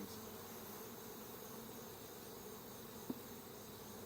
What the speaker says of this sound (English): I'm going to go ahead and shake these bees off and back down in there.